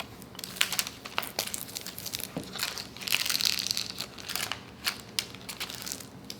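A Trader Joe's paper bag is crinkled and crushed close by, a stretch of dry rustling and crackling with scattered sharp snaps and a louder bunching burst midway.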